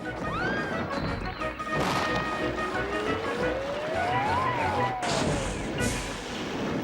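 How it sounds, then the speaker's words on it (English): Train braking and crashing in the Trainz video game, with a long screeching whistle-like squeal rising and falling over a continuous loud rumble and clatter, a sharp crash burst near the end, and some talk mixed in. "Slow down, called Thomas's driver and applied the brakes."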